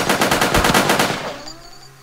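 Automatic gunfire in the video game Sub Rosa: a loud, rapid burst of shots that stops after about a second and a half, leaving a ringing tail.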